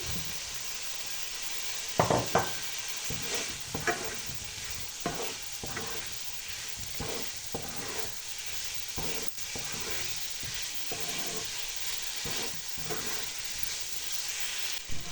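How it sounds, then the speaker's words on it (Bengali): Potato and carrot sautéing with tomato in a pan, a steady close sizzle with repeated scraping stir strokes and light clinks of a utensil against the pan. "আমি আলু আর গাজরটা একটু কষে নিয়েছি"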